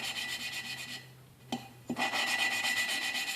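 A steady gritty rasping of an engine valve being lapped against its seat on a 1995 Enfield Bullet 500, which fades to near silence for a moment, broken by two soft knocks, then the scraping resumes, close and continuous.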